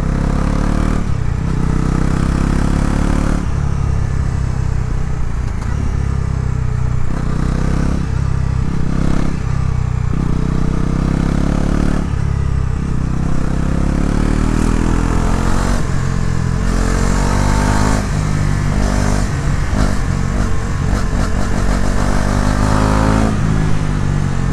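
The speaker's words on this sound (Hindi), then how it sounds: "इसका एग्जॉस्ट नोट आप सुनो" A Bajaj Pulsar NS400Z motorcycle exhaust drones loudly and close while riding, revving up and dropping repeatedly through aggressive gear changes in a rough, throaty rhythm.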